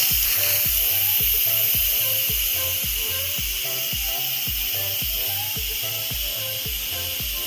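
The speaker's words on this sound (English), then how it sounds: "now I am going to take the little vent piece that's up here from sealing and take it over to venting. So you'll see a big swath of steam will come out." An Instant Pot's vent switched from sealing to venting after pressure cooking ribs releases a loud, steady hiss of steam lasting throughout, with a repeated low rhythmic thumping underneath.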